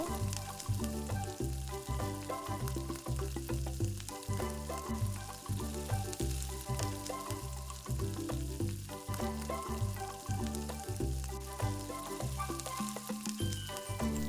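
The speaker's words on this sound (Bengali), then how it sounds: "এটাকে দিয়ে দেওয়ার পর আমরা ভালোভাবে চিকেনটাকে নাড়াচাড়া করে কষে নেব" Chicken coated in cashew and poppy-seed paste sizzles loudly and steadily in a pan while being stirred for chicken rezala, the frying continuous over a tonal, musical-sounding backdrop.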